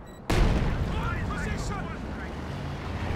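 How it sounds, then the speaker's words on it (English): Katyusha rocket artillery strike in a strategy video game, opening with a sudden loud blast that rolls into a sustained, dense rumble of impacts and debris. "Katyusha trying to target their retreat path, but a little bit too slow with the rockets arriving"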